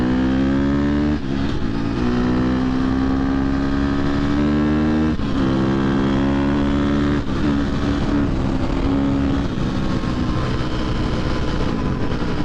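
KTM 250 XC-F dirt bike, a 2023 model ridden on the street, revving hard and climbing through the gears with a quick shifter; a loud, close engine whine rises in pitch, with brief drops at each shift, continuous and without talk.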